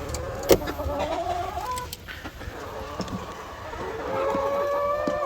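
Laying hens clucking on a small farm near their nests, a few drawn-out calls and clucks rising and falling at moderate distance over a low background rumble, no talking.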